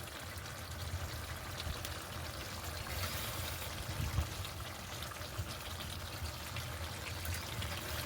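Sauce poured into a mutton curry in a pan, a soft steady pouring and trickling stream lasting several seconds, quiet and close with no talking.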